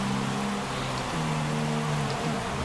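Heavy rain in the F1 2016 racing game during the Japanese Grand Prix, a dense steady hiss of rainfall over a low droning race-car engine whose pitch dips and then rises again, with no speech.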